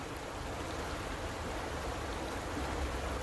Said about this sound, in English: you'll be hearing a lot of water running